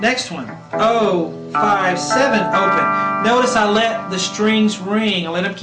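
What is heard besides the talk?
None of the usual background noises is heard.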